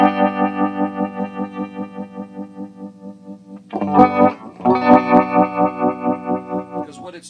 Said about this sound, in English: what it's doing is changing the actual pitch, is modulating up and down, rather unlike the tremolo effect